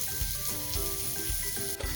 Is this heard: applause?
no